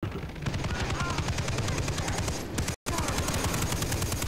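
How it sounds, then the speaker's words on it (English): Sustained rapid machine gun fire in Far Cry 3 rattles in a dense, fast rhythm, loud and continuous apart from a brief cut of silence partway through, with no talk. "Oh god, that's a machine gun."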